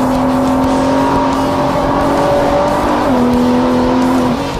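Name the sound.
Techart Porsche GT3 accelerating out of a corner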